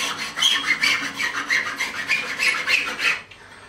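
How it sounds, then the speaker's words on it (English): A number 4 cut super smooth file is drawn across guitar frets on an Ibanez RG200 neck during a refret, making close, rhythmic rasping strokes about every third of a second before stopping. "I'm going to go across with this file, my number 4 cut super smooth file"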